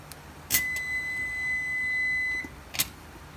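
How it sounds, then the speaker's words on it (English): A kitchen timer gives one sustained electronic beep of about two seconds, fairly clear over a quiet background, with a couple of short clicks before and after it. "Timer."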